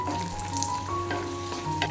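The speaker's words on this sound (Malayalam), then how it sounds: "ഇനി ഒരു പാനിലേക്ക് ഒരു ടേബിൾ സ്പൂണ് നെയ്യ് ചൂടാക്കാം ഇതിലേക്ക് കുറച്ച് അണ്ടിപ്പരിപ്പും ഉണക്കമുന്തിരിയും ചേർത്തിട്ട് വറുത്തെടുക്കണം" Cashews and raisins frying in a tablespoon of hot ghee for semiya payasam, a close, steady crackling sizzle with light stirring scrapes.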